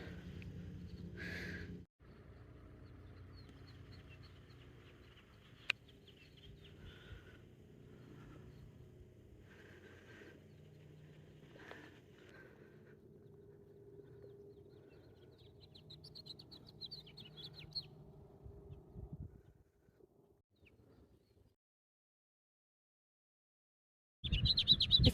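A bird sings at a boat dock on Nevada's Rye Patch Reservoir, faint and distant chirps and a short high warbling phrase over a soft outdoor rumble, with a louder burst of noise at the very end.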